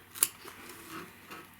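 Small scissors snip around embroidered fabric petals on a water-soluble stabilizer, making a single quick crisp cut followed by faint soft shearing and rustling, close and quiet.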